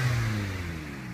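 Nissan S15 Autech Edition with an expensive Nismo exhaust, idling near the mic with a steady low engine drone and a faint buzzing rattle at one RPM, brief and with no talk.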